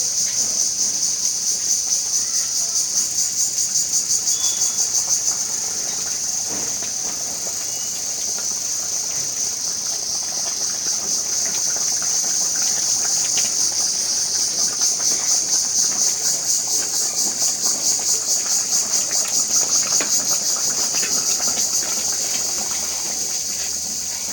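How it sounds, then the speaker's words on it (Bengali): A pot of fish curry broth at a rolling boil gives off a steady, high hissing bubble. The sound is close and constant, with no voices over it. "ঝোলটা বলক উঠে গেছে, এখন মাছ দিয়ে দিই।"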